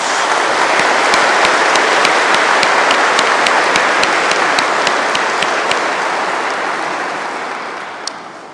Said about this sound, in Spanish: un fuerte aplauso para estos niños